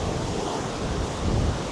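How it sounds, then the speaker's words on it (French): Sea waves breaking on a Martinique shore, a loud continuous wash of surf with steady wind rumble, no voices. "C'est pour ce bruit de vague que je viens."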